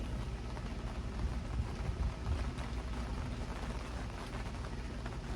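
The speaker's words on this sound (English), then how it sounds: "And then it begins to rain." Steady rain falling outdoors, a dense continuous hiss of drops with no breaks, fairly close and even in level throughout.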